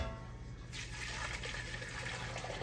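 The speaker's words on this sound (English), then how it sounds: "I'm gonna just pour it right here in my Dutch oven pot here" Giblet broth for Thanksgiving gravy pours into a Dutch oven pot, a close, continuous splashing and gurgling stream of liquid that keeps going from start to finish.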